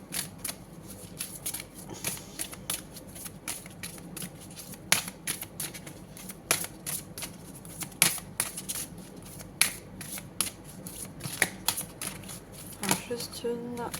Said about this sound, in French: Je prends une dernière carte. Avec ce joli oracle.